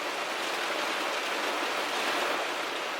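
Steady rain falls on a camping van, a dense, even hiss of drops that runs unbroken and loud for the whole stretch, with no voices.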